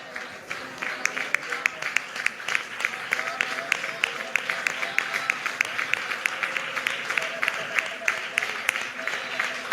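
A church congregation clapping hands together in praise during a Malayalam Christian service, loud rhythmic claps from many people in a steady beat, with voices mixed in.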